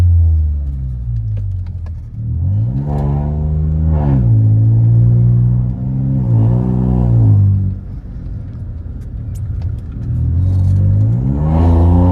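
A Volkswagen Polo GT TSI with a full-system exhaust and performance tune accelerates hard in repeated pulls, its loud engine note climbing through the revs, dropping between gear changes, then rising again, close and steady throughout.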